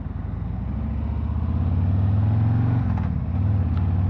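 A Harley-Davidson Road Glide 3 trike's V-twin engine rumbles loud and close as it pulls away, the deep pulsing throttle climbing steadily with a brief shift midway.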